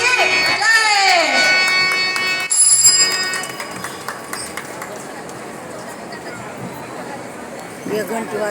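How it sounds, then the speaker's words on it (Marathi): A bell rings to mark the end of a women's devotional group's allotted time, sounding in steady ringing tones over the first three seconds before giving way to a murmuring crowd and voices. "एक घंटी वाजली"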